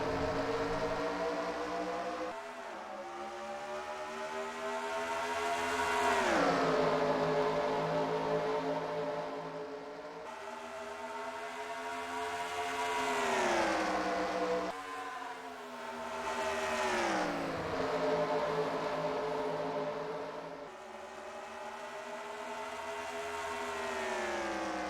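Multiple race cars in a NASCAR-style video game race in Toronto, Canada, roar off the start together, engines rising and falling in repeated sweeping pitch waves as packs pass close by, loud and continuous.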